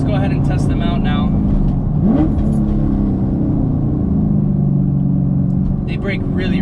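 A 5th-generation Chevrolet Camaro SS, built as a daily-drivable track car with stock Brembo brakes, drives on a highway with a steady loud engine and road drone while it slows, and a voice talks over it.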